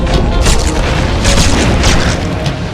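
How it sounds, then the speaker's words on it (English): Enemies fire on the player in the God of War video game, producing loud, booming bursts that repeat in quick succession over a rumbling, explosive background. "Oh no, they're shooting."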